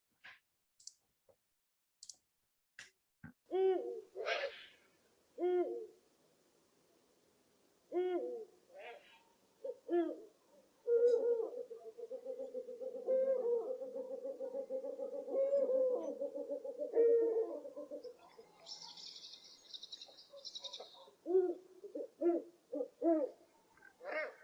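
A mating pair of owls calls in the wild in Ireland, a female's sharp calls answered by deep hoots from a male, building into a sustained, close chattering duet during copulation, with quiet gaps between calls.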